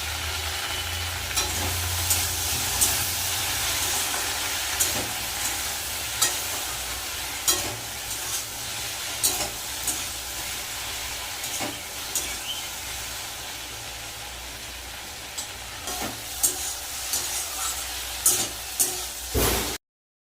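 Okra fries in a pan with a continuous sizzle, punctuated by scraping stirs and occasional clatters over a long stretch.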